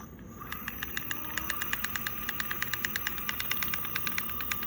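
A Bafang G0F0.750.DC06 ebike hub motor with its gears installed spins freely by hand, giving a steady, fast, evenly spaced rattling tick over a low hum, close and clear.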